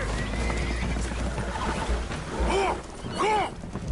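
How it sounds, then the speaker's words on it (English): Spooked horses aboard a damaged, leaking boat in the video game Red Dead Redemption 2 whinny loudly twice over a steady low rumble, with hoof clatter and some background voices in the mix. "Horses are spooked, and we're taking on water."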